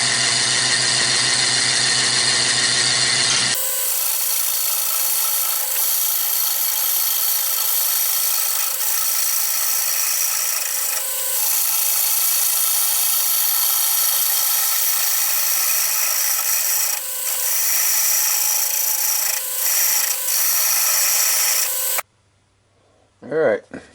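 Lathe gouge roughing out a wild cherry wood bowl, a loud, steady, continuous cutting roar with a machine hum that runs without a break, then drops away near the end.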